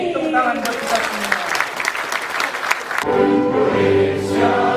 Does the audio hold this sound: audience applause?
yes